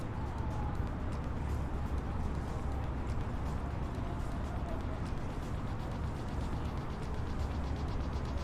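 A flight-simulator cockpit printer runs off a weather report with a steady mechanical whirring and ratcheting that blends into constant low cockpit hum throughout.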